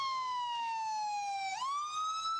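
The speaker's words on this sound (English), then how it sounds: "That was an ambulance." Ambulance siren wailing loudly and close, one steady descending tone that dips and then sweeps back upward, heard alone without talk.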